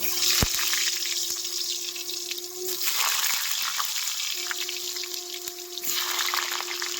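Potatoes are added to hot mustard oil in a pan with chicken skin and feet, giving a steady close sizzle with occasional sharp crackles and clinks.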